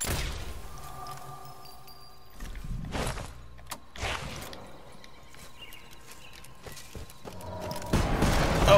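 Gunfire in Sniper Elite 4 aimed at the player lands as a few sharp, loud bursts standing out against a quieter game background, with scattered thuds between them.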